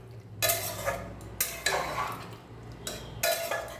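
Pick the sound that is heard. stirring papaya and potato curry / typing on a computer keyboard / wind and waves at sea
stirring papaya and potato curry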